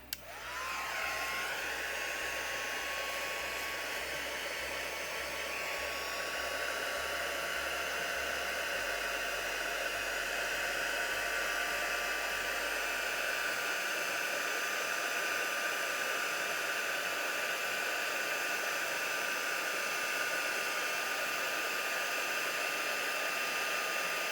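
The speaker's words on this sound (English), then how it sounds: "grab the heat gun" Heat gun blowing steadily on embossing powder on a card, a loud continuous roaring whoosh with a high whine that starts abruptly and holds unbroken for over twenty seconds, with no talking.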